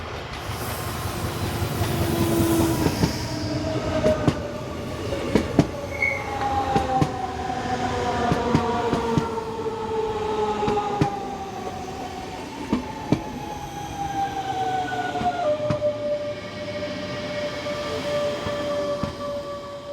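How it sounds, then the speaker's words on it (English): Two German S-Bahn electric multiple units, 425051 and 424040, roll into a station on the Bremen–Hannover line, wheels clicking over rail joints and long squealing tones rising and sliding as the train slows, steady and fairly close with no talk. "from here we see 425051 and 424040 arriving from the south, with an S-Bahn service bound for Nienburg"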